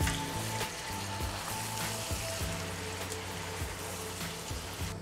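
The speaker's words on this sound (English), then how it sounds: "I'm gonna give this a nice stir." Food sizzling and frying steadily in a pan on the stove, a continuous close hiss and crackle with occasional scraping knocks of a spoon stirring.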